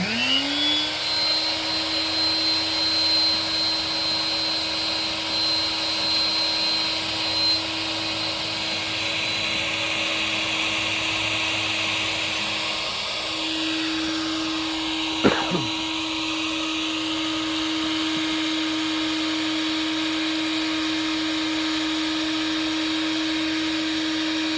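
A household vacuum cleaner runs steadily while inflating a GoPlus 7.5 ft inflatable raft, with a constant motor whine that shifts pitch slightly midway and a brief bump partway through, loud and close throughout.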